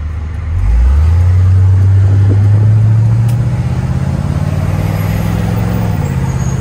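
A 1972 Corvette Stingray engine fires into a deep, loud idle, then rumbles and pulls up through a gear change, its low note rising and settling again, close up and with no talk.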